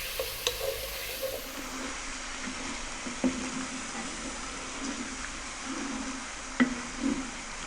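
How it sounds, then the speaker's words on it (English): Beef stew with flour being stirred in a pot over medium heat: a steady low sizzle runs throughout, with a few soft scraping clicks from the spoon at irregular moments. "You need to be stirring pretty much all the time now."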